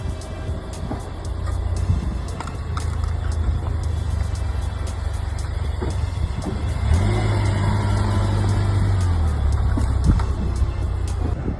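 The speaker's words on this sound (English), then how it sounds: "we're gonna see if they can handle a 2015 Nissan Juke Nismo RS driving" A 2015 Nissan Juke Nismo RS drives over gun magazines, a continuous loud engine rumble with low tire noise that swells as the car creeps forward, plus scattered clicks over the drone and no talk.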